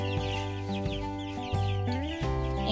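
Chickens in a backyard coop give a steady run of overlapping clucks and calls, close and continuous with no talk.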